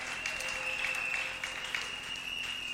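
A church congregation clapping in praise during a thanksgiving service, steady rhythmic applause at moderate distance over a sustained electronic tone from the sound system.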